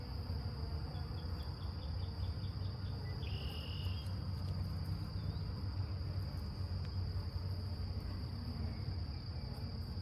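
Honeybees buzz steadily around an open hive during an inspection of the frames, a continuous close insect drone with a high thin whine running through it and no voices.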